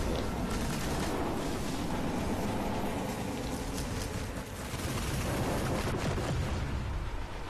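Sustained gunfire pours into a shrine in Destiny, a dense, continuous barrage of rapid shots and booming impacts that stays loud and close throughout.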